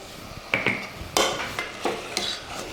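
Green chilli chicken chops frying with rock salt in a pan, a soft sizzle beneath several distinct scraping stirs and metallic clinks of the spoon against the pan, close and moderately loud, no voices.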